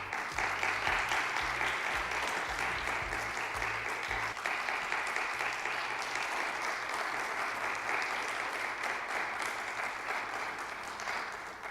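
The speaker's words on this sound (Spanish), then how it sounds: "Recibamos con un fuerte aplauso a Germán Ríos." Steady, dense audience applause welcomes the guest speaker at an economics lecture on Latin American history, sustained at an even level for the whole stretch with no voices over it.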